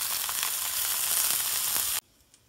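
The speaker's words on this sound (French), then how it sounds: "dans un sauteur avec un peu d'huile, on met les boulettes, on les écrase comme ça" Pork meatballs sizzle loudly in a little oil in a sauté pan, a steady close frying hiss that cuts off abruptly near the end, leaving quiet.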